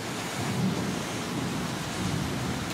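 Steady rain falls outside, a dense even wash of noise with a low rumble, unbroken and fairly loud throughout.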